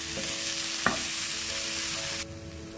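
Tomatoes sautéed in biryani masala for fried chicken biryani, with a dense steady sizzle and one sharp scrape of a stirring utensil, close, until the frying sound drops away near the end.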